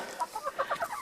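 Rhode Island Red chickens in a winter setting cluck in a quick series of short, close calls, several birds overlapping, with no talking.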